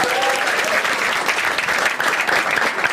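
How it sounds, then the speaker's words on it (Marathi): Steady, dense applause rolls through the audience at a Marathi stand-up comedy show, a continuous wash of many hands clapping at full strength without pause. "एकदा टाळ्या वाजवा तिच्यासाठी सगळ्यांनी."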